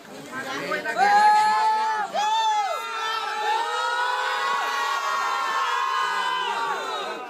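Crowd gathered outside as chiefs arrive for a meeting with the Prime Minister at the Langevin Block office, a dense continuous mass of voices with shouts and cheering rising and falling throughout.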